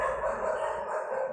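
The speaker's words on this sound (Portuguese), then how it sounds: "Ignora os cachorros, tá?" Dogs barking and howling somewhere in the background, a steady, continuous canine noise filling a brief moment with no talk over it.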